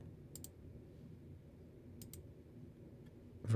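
Two pairs of quick mouse clicks on a computer, close but faint, separated by quiet room hum, with a louder bump at the very end.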